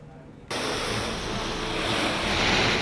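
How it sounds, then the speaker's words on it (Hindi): Floodwater from a swollen river rushes through streets and into homes in Dehradun, Uttarakhand, a loud, steady broadband roar that starts abruptly and keeps surging without a break. "देहरादून में नदी का पानी घरों में घुस आया।"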